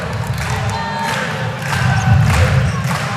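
Traveling Hawaii fans cheer and roar at a men's volleyball championship quarterfinal against Penn State, a dense crowd swell that builds louder through the second half.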